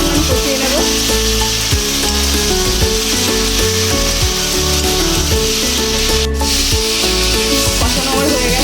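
Diced potatoes sauté with masala in a hot pan for a vegetarian dish, a continuous loud sizzle with steady stirring and scraping up close, no voices.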